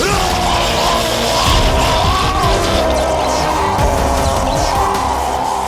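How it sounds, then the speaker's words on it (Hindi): Screams and yells from an animated Hindi superhero cartoon, loud and continuous across a dense, roaring soundtrack with crashing noise throughout. "ये चीखें सुनाई दे रही हैं"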